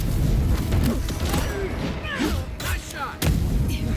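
Grenade blasts going off in the fantasy video game Avowed, a run of loud booming thuds and rumbling detonations packed closely together over a dense, noisy battle background.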